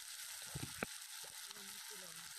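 Onion and garlic frying in oil, a steady close hiss of sizzling with a few soft knocks from stirring, while a voice murmurs faintly in the background.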